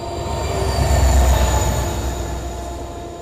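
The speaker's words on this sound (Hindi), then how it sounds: "ICF कोचेस के साथ ट्रेन जो है वो है। अब तो रफ्तार बना ली है भाई ट्रेन ने दोनों में भी।" A Garib Rath Express hauled by an EMD locomotive with ICF coaches rumbles past at speed, a heavy steady roar with metallic wheel squeal that swells to a peak and then eases off.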